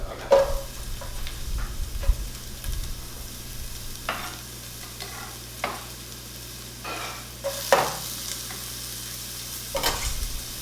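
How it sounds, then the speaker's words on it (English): Garlic and onion sautéing in a pan for okra soup: a low steady sizzle broken by spoon scrapes and stirring knocks, a few sharper clinks standing out, no voices. "Garlic and onion. Saute them until it's fragrant."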